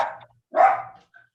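A dog barks at close range during an online health board meeting, two sharp barks, a short one followed by a louder, longer one, with nobody talking over them.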